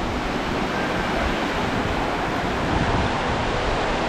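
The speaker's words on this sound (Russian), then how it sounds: "И посмотрите, какое море прекрасное." Sea waves wash onto Limanaki Beach near Ayia Napa in Cyprus, a broad steady roar of surf mixed with wind buffeting the microphone, loud and unbroken throughout with no one speaking.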